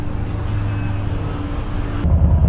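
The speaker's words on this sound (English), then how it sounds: "the first thing I notice upon getting on this bike and starting it up is it's got aftermarket exhaust on it. These are Vance and Hines, and they are loud." A 2021 Harley-Davidson Softail Standard big twin with aftermarket Vance and Hines exhaust idles nearby in a deep, steady rumble that turns rougher and louder near the end.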